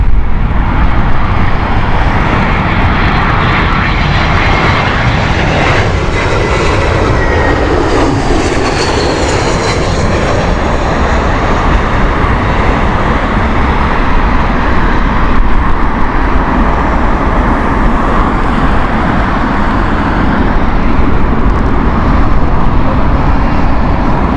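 A jet airliner at Heathrow Airport roars steadily and loudly nearby for a long stretch, the engine noise swelling and shifting as it passes.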